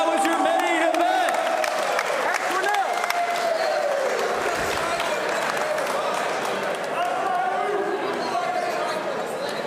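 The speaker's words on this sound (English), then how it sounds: "Give them a round of applause, ladies and gentlemen" Crowd at a Limitless Fighting Championship MMA event applauding and cheering after the main event, a dense sustained roar with clapping filling the room, an announcer's voice carrying over it throughout.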